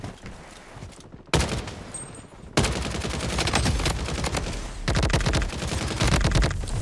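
Assault rifle fire rattles in the Blood Strike video game as loud, close automatic bursts, with a short pause before the sustained shooting picks up again and keeps going.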